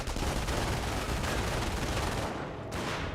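Dense, sustained MG42 machine gun fire in a Company of Heroes battle, a loud continuous rattle of bursts with no voices, easing slightly near the end before resuming.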